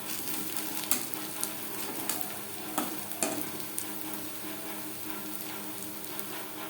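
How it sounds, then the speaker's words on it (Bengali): Onions fry in a pan over high to medium flame with a steady close sizzle, broken by occasional sharp pops and crackles. "পেঁয়াজ ভাজবো হাই টু মিডিয়াম ফ্লেমে।"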